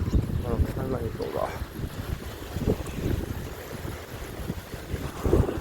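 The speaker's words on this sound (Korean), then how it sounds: "오늘 바람 참 많이 부네요" Strong wind gusts buffet the microphone outdoors on a large open lot at a demolition and scrap-recycling business site, a loud continuous low rumble with surges, while someone talks over it.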